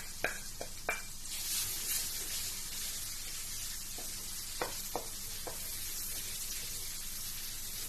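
Garlic dropped into hot cooking oil, giving a steady bright sizzle with a few sharp spatters and pops near the start and middle, close and fairly quiet, no talking.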